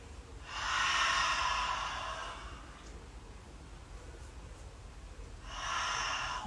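A person breathes deeply during a hatha yoga flow. A long, breathy inhale or exhale rises and fades, a quiet pause follows, then another slow breath begins, close and soft, with no talk.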